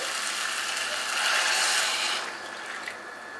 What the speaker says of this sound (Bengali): আমি মোট 5 কাপ জল কিন্তু এখন অ্যাড করছি। 5 কাপ ফুটন্ত গরম জল।